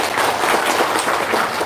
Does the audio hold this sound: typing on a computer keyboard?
no